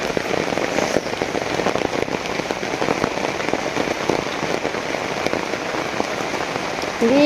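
Heavy rain pours in a dense, steady patter of drops hitting surfaces, loud and close throughout with no voices.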